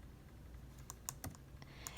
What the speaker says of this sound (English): I'm going to type in their names